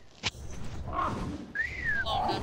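A person whistles over Ark Survival voice chat, a bright rising then falling whistled tone with a short separate chirp, heard close under game noise with a thump near the start.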